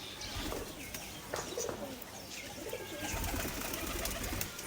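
Imported Indian Madrazi pigeons give soft, low coos amid a noisy, hissy loft background, with faint wing rustles and scattered chirps, fairly quiet throughout.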